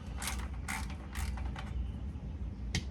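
A ratchet wrench loosens the bolts on a car's transmission pan in short bursts of rapid clicking, five in all, each well under a second and separated by pauses, set over a steady low background hum.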